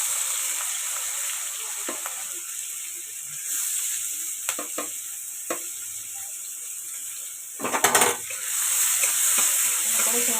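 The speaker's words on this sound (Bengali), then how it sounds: "পেঁয়াজটাকে ভাজাভাজি করবো।" Onions fry in oil in a pan with a steady, bright sizzling hiss. Occasional ladle taps and scrapes break in, and one louder clattering stir comes near the end. No speech.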